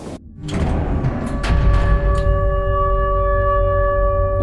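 A train in the Garten of Banban video game rolls on its rails with a loud continuous low rumble and steady sustained tones, constant and close, with no talking.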